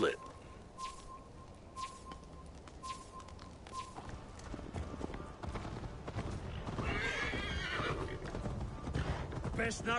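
A horse in Assassin's Creed Valhalla whinnies sharply, then hooves clip-clop in a steady rhythm, with faint birdsong and other ambient sounds in the background.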